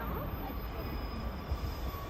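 A Class 150 passenger train, unit 150250 on a Transport for Wales service, heard at a station platform as a steady, fairly loud rumble with a thin high whine running throughout.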